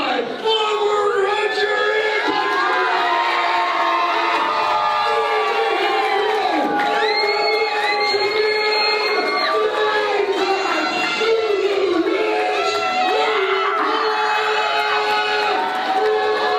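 A wrestling crowd at a pro championship match cheers and whoops loudly and without a break, with children shouting, a dense roar of many voices filling the arena.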